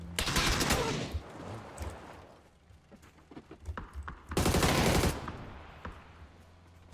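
Bursts of rapid automatic gunfire in a Thai shooting video game, two loud sustained volleys separated by quieter scattered shots, with no talking.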